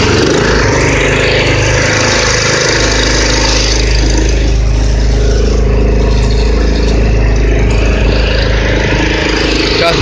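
A Honda engine water pump mounted on a 2007 Wylie tow-behind water trailer with a 500-gallon tank runs steadily, a continuous close engine drone with low rumble throughout, no break in the sound.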